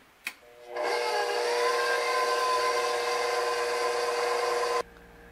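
Electric mixer whipping ingredients for a cream pound cake, a steady whirring motor drone starting after a brief click and running continuously for about four seconds before stopping abruptly, close and fairly loud with no talk.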